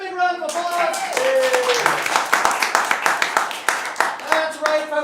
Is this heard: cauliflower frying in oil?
no